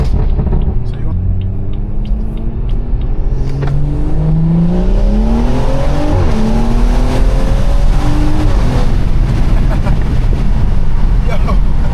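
Stage 2 BMW 340i accelerating hard from inside the cabin, a loud continuous engine drone rising through the gears with shifting tones, tires losing traction on cold pavement.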